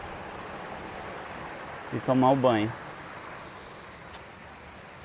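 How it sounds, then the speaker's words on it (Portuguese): Steady broadband rush of falling water from a small waterfall at Balneário Frios in São Luís do Curu, constant throughout, with a brief spoken phrase in the middle. "Olha essa cachoeira aqui, ó, para criançada colocar a cabeça aqui embaixo"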